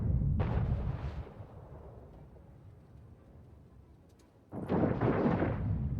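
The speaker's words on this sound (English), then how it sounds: "The torpedo fired." Two heavy booming blasts of a torpedo firing in Anno 1800, one at the start and another near the end, with a low rumbling lull between them.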